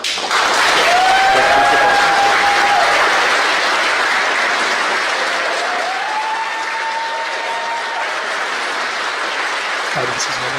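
Applause fills Rocket Lab mission control after stage separation on an Electron rocket launch. The clapping is dense, loud and steady from the start and slowly thins over about ten seconds.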